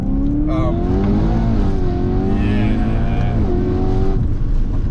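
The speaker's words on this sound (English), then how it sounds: "that 2-3 shift is epic" A 600-horsepower supercharged E92 BMW M3 engine revs hard and loud up close, its pitch climbing, dropping sharply at the 2-3 gear change, then rising again, with a voice faintly underneath.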